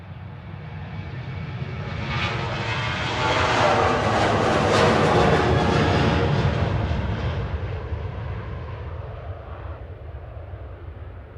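An aircraft takes off at Manchester Airport, its jet roar swelling steadily to a loud peak mid-way and then fading slowly as it climbs away, with no voices over it.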